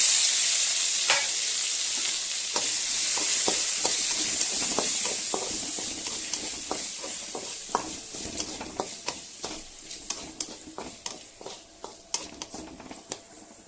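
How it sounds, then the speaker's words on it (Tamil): Onion, tomato and curry leaves sauté in a hot pan: a loud, steady sizzle at first, then a run of quick spatula scrapes and taps, close up and without voices. "ஒரு மீடியம் சைஸ் ஆனியன், ஒரு தக்காளி, கருவேப்பிலை எல்லாம் சேர்த்து நல்லா வதக்கிக்கோங்க."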